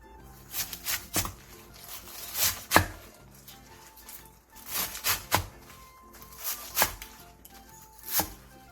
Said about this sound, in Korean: 쪽파 한 줌을 3에서 4cm 정도 길이로 잘라주세요.